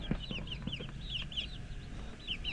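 High, chirping peeps from young chicks, some about one week old, in a coop, with soft clucking from a hen. They repeat in quick bursts over low background noise.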